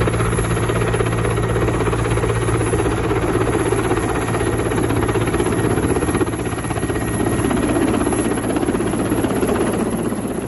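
A helicopter flies close overhead, its rotor and engine producing a loud, steady, throbbing drone with constant vibration that holds for the whole stretch, with no voices over it.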